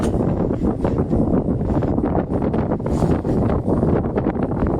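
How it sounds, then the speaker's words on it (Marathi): Strong sea wind buffets a merchant ship in bad weather, a continuous loud roaring rumble of gusts against the microphone with no pauses. "हवा सुद्धा आहे"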